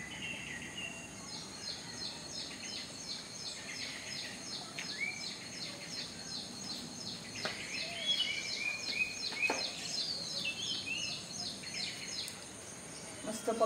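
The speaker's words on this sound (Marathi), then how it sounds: "मस्त पक्ष्यांचा आवाज पण आहे." On a foggy village morning in the hills after paddy transplanting, small birds sing with rapid repeated chirps and trills in the distance, fairly faint over a soft outdoor background.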